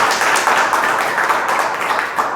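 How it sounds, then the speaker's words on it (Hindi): Loud, dense applause from an audience at a home meeting, with steady, continuous clapping at full strength across the whole moment and no pauses. "मैं चाहूंगा इसके लिए जोरदार तालियां होनी चाहिए"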